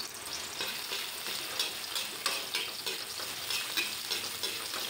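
Onion and garlic sauté in a pan with a steady close sizzle, and irregular stirring scrapes and clatters rise over the frying throughout.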